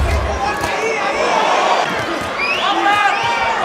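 Boxing arena crowd roaring during a fight, a steady dense wall of cheering and chatter with a few whistles rising above it, continuous and loud throughout.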